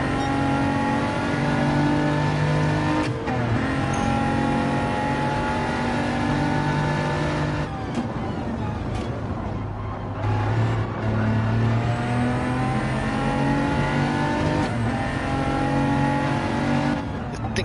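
Race cars, including BMWs, in a DTM sim racing game roar continuously, with whining engines rising and falling through gear shifts as they run close together on track.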